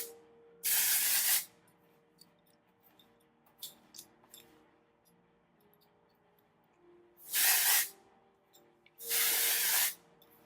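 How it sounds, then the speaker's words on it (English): Not Your Mother's Clean Freak dry shampoo sprayed onto hair roots in four short aerosol bursts, close and crisp, with quiet handling noises between them. "I have some Not Your Mother's Clean Freak Dry Shampoo. We're just going to hit the hair a little bit."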